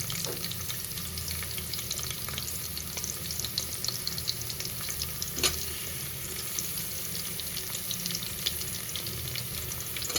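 Lengthwise-sliced onions fry in a pan for tomato rice, giving a steady, even sizzle with light crackles and a few scraping stirs throughout, close by and without any talking.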